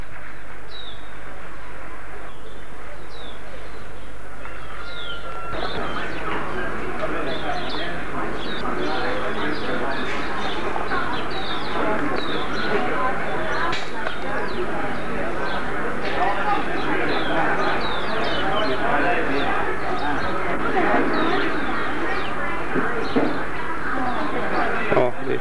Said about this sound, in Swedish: Fina fåglar som det finns.